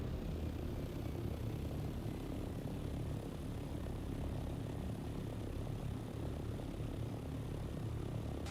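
A glider soars through a desert in a survival video game, giving off a steady, continuous engine-like drone and wind rush at an even level throughout, with no talking.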